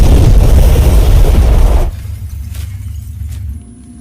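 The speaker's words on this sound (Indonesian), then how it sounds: "ruangan tersebut seketika meledak secara tiba-tiba." A loud, dense explosive blast fills the first two seconds, then drops away to a low rumbling aftermath that fades further near the end.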